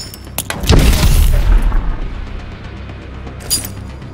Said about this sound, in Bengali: flash grenade